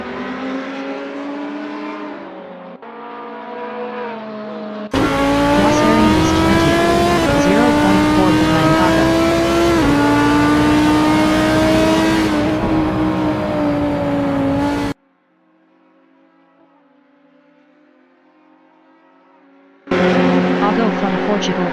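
A Ferrari 488 GT3 engine roars loud and close during a sim race at Spa, pitch climbing and shifting through gears, cutting out briefly, then returning, with commentary over the action.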